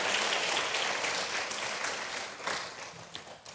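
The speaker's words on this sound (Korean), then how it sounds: "축복하며 박수하겠습니다." A church congregation applauds together during a Sunday evening service, a steady wash of many hands clapping that holds fairly even before thinning slightly toward the end.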